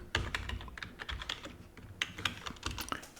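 Fingers typing a password on a computer keyboard, a quiet, close run of quick, uneven key clicks with a few short pauses.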